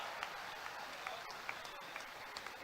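Steady, dense applause from an audience at a Commonwealth Games boxer event, continuous across the moment with scattered sharper claps standing out, moderately distant and even in level.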